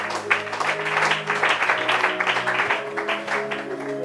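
A church congregation applauds together during a French-language Bible teaching, a steady, dense clapping that holds at moderate loudness throughout, with low sustained tones underneath.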